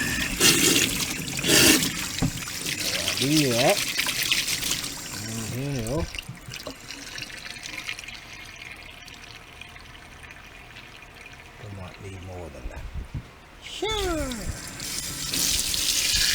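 Water runs from a pump and pipes being pressurized, gushing and splashing loudly at first, then settling into a steady nearby flow with some surges, while a few people talk briefly over it.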